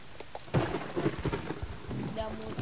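Rain patters and thunder rumbles during a wet-weather race in a video game, a steady hiss of rainfall with low booming thunder swelling beneath it, moderately quiet.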